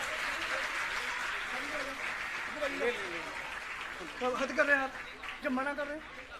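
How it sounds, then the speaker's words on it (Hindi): An audience applauding at a government school event in Dariyapur, Bawana, Delhi, with a steady, moderately quiet wash of clapping that runs throughout while voices talk over it and grow louder toward the end. "आप अपनी खुशी अपनी जोरदार तालियों से सर तक पहुंचाते रहें"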